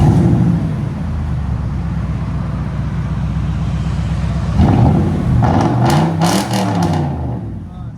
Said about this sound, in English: Toyota Tundra 3-inch tailpipes.